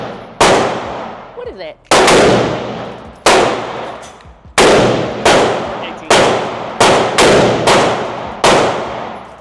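An MP5 clone fires at a range, shots coming singly and in quick pairs, about ten sharp loud reports with ringing decay, and a voice asks a brief question.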